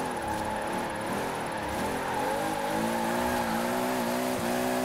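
A 2JZ-powered Hot Wheels car with a mid-engine rear-wheel-drive layout revs in Forza Horizon 4, its engine holding a steady droning tone with wavering pitch, alone and fairly quiet.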